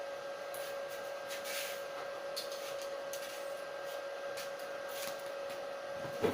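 A welding machine hums in a steady, even drone after being switched on, with a faint whirring hiss on top and no voices.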